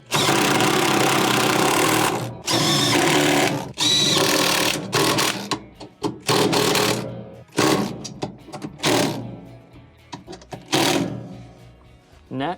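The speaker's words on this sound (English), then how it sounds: "go around the perimeter and resecure the rest of your bolts" A power tool runs in loud bursts while bolts are tightened around the perimeter of a Samsung washer transmission during repair, with repeated whirring spurts separated by short pauses.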